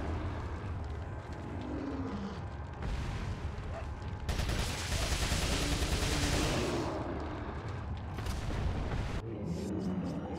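Gunfire in the video game Resident Evil 4 as a player unloads on an enemy, a loud burst of rapid shots mid-clip with rumbling game ambience before and after.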